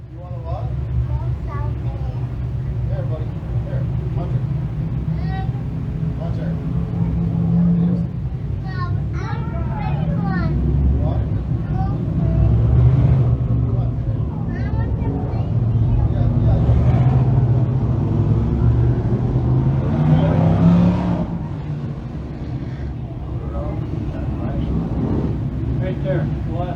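358 dirt modified race cars roar together through a heat race on a dirt track, a steady, loud engine drone that swells and eases throughout, with people talking over it.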